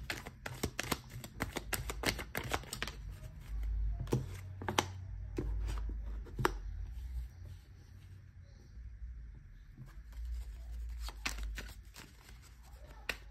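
Playing or tarot cards are shuffled in a run of sharp riffles and snaps, clustered at the start and again later, close and fairly loud, with soft speech in between.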